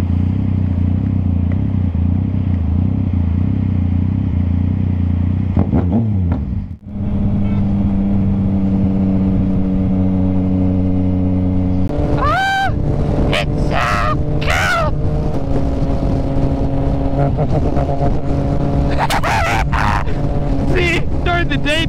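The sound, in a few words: motorcycle riding on road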